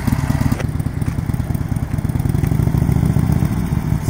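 A motorcycle engine running steadily at low revs while a beginner works the clutch friction zone, a close, even mechanical throb with light clatter and no talk.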